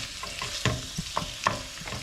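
Food browns in a frying pan with garlic and onion, a steady sizzle broken by several sharp scrapes and taps of a utensil stirring, close and fairly loud, without speech.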